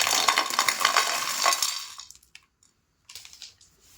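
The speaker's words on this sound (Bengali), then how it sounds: "আওয়াজ শুনে নিশ্চয়ই আপনারা বুঝতে পেরেছেন এটা কতটা ক্রিস্পি হয়েছে।" Crispy fried cauliflower pakora is bitten and chewed close up, a run of loud crackly crunches that fade into a pause, followed by a few softer crunches.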